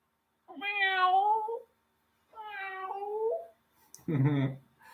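A cat meows three times, close and clear: two long, drawn-out meows followed by a shorter, lower, rougher one after a pause.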